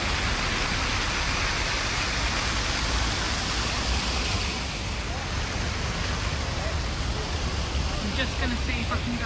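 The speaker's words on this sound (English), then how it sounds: "You'll find a few really nice fountains here in this square." Fountains splash in Praça da República square in Viseu, a steady, dense rush of falling water that fills the whole stretch without pause.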